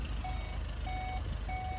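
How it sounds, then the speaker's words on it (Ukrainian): A 2018 Volkswagen Passat B8 2.0 TDI warning chime, for the engine running with a door open, sounds three times in an even rhythm over the low, steady hum of the idling diesel engine. "Автомобіль на нас свариться, що двигун запущений, дверка відкрита"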